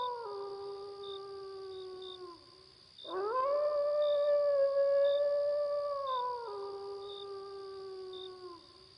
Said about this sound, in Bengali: চারদিক শিয়াল আর ঝিঁঝি পোকার ডাক।